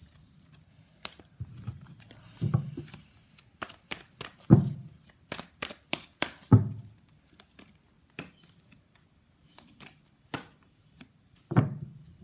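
Tarot cards are handled and shuffled, with scattered sharp snaps and flicks and soft riffling patter in irregular bursts, close up in a quiet room with no talk.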